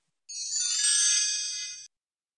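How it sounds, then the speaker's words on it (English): A phone rings once: a single bright electronic tone lasting about a second and a half, clear and close, with silence before and after. "The phone ringing?"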